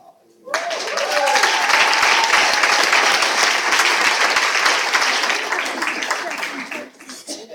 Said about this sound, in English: Like the applause and everything feel good.